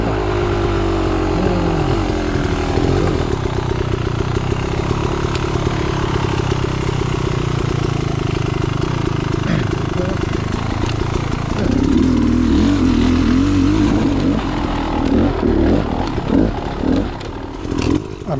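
A trials motorcycle picks its way over staircase rocks at Clough State Park, its engine a steady, close low drone that rises in bursts of throttle on the rocky climb, with no talk.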